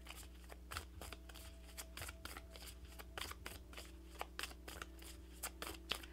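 Tarot guidance cards being shuffled, a quiet, close run of quick riffling bursts and soft card slaps repeating steadily for several seconds, with no talk.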